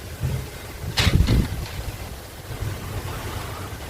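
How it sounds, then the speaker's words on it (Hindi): Strong cyclone wind gusts buffet the area with a rough, blustery rush, one louder burst swelling and fading over a low rumbling background. "बहुत तेज़ हवा चल रही है, देखो मेरे बाल पूरे उड़ रहे हैं"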